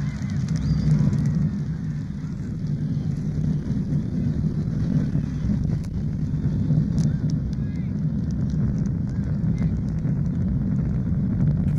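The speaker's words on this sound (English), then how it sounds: "We have main engine start." Apollo 11 rocket main engines roar at launch, a steady deep rumble with wind-like noise that stays loud and constant throughout.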